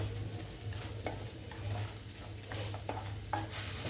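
Brinjal masala curry frying in oil, a low steady sizzle with repeated scraping and stirring strokes of a spoon in the pan, close and fairly quiet.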